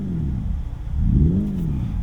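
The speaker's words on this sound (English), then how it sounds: "Ignition is my favorite because it emulates internal combustion." A Hyundai IONIQ 5 N plays its piped-in Ignition engine sound emulating internal combustion, a deep synthetic engine note dipping then climbing in a rev, loud and close.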